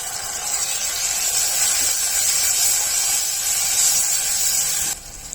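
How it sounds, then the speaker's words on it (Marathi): Chopped tomato goes into onions frying in oil, a loud steady sizzling hiss close by that holds throughout and drops off abruptly just before the end. "कांदा परतला गेल्यानंतर त्यामध्ये एक टॅमेटो आपण बारीक चिरून घेतला आहे तो घालून घ्यायचा आहे"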